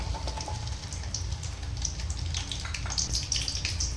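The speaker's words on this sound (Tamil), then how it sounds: "நம்ம சின்ன வெங்காயத்தை பொரித்து எடுத்துக்கலாம்." Small onions (shallots) fry in hot oil, giving a dense, continuous bubbling crackle close by with no voices.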